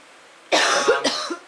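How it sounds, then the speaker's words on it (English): A woman recovering from the flu coughs twice in sharp, harsh bursts close to the microphone, loud against a quiet garage-workshop background, with no talk. "you can hear the camera girl coughing."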